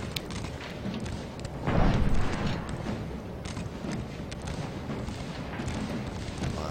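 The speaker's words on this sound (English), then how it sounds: "You can hear the cannon shells just flying through the air, just blowing." Cannon fire and bursting shells in the Civil War battle game Scourge of War Gettysburg, a continuous rumble of distant booms, with one heavier blast swelling near the two-second mark amid scattered cracks.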